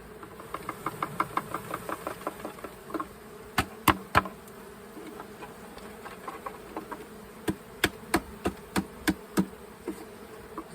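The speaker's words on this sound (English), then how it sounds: "So we shake the bees here." Bees buzz in a low steady drone while being shaken out of a hive box, with a series of sharp knocks and bumps close by, irregular at first, then in quick bursts.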